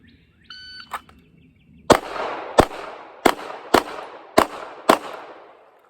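Pistol shots fired at practice targets on a shooting range, a quick electronic start beep followed by six sharp, loud, evenly spaced reports with short ringing decays.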